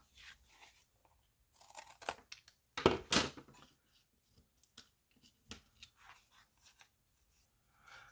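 Scissors cut the corners of pizza box cardboard to make tags, a few sharp crunchy snips in short bursts with quiet gaps between, close and fairly faint.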